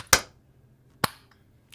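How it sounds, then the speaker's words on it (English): Participants on a lagged online call clap together on a count of three, but the claps arrive as three separate sharp, isolated hits spread out by the delay, with silence between them. "Let's do on 3. We'll clap."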